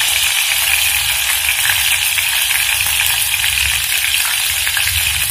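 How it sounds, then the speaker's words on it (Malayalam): Mustard seeds spluttering in hot oil for a fish-free curry, a loud, dense, continuous sizzle and crackle holding steady throughout with no voices. "എണ്ണ മൂത്ത് വരുമ്പോൾ നമുക്ക് കടുക അതിലേക്ക് ഇട്ട് കൊടുക്കാം."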